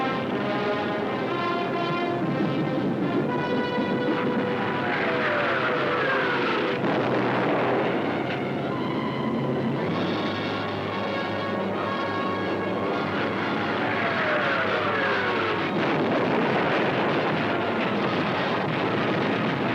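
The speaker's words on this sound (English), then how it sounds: "All the available German night bombers were put into the air." German night bombers in flight during the Battle of Britain, a steady, heavy engine drone with slowly shifting pitch and some wind rush, continuous and fairly loud throughout with no voices.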